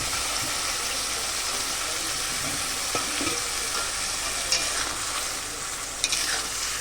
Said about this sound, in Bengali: এবার আমি এই মাছগুলো দিয়ে দেবো